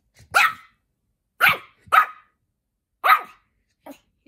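A dog barks in short, loud, sharp bursts close by, four barks spaced unevenly with a softer fifth yelp at the end, no other sound between them.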